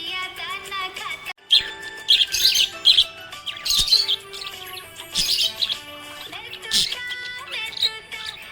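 A happy green budgie chirps close by in a lively series of high tweets and short squawks, with melodic tones running underneath.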